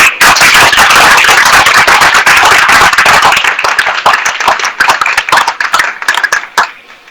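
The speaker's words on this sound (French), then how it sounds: "Il faut l'applaudir très fort." Loud, close applause for a village chief at an outdoor gathering in Anono, a dense burst of many hands clapping that gradually thins into sharper individual claps toward the end.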